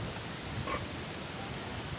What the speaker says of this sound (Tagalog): humina yung hangin, pero parang lumalakas pa rin